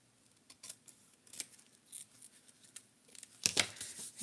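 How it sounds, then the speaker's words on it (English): Scissors snip through vintage paper while quilt tags are being made: several quiet, close cuts at an irregular pace, with a louder crunchy snip near the end. "And then I can just cut this"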